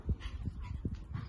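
A water-loving dog making short whimpering and whining sounds nearby, a rapid run of soft low yelps and whines in quick succession, close and fairly loud.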